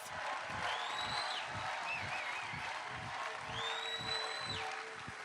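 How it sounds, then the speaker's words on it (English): A large audience at a public unveiling ceremony bursts into sustained, dense applause with rhythmic low thumps of foot-stamping, loud and steady throughout with faint whoops above the roar. "giving them a loud, a boisterous, a wonderful, a foot-stamping applause right now"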